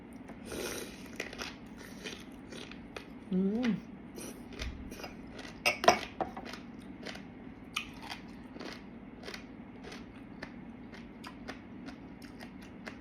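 Crunching bites of pickled Thai seafood with crisp fresh vegetables, a series of sharp close crunches and chewing clicks scattered through the meal, with brief vocal sounds between mouthfuls.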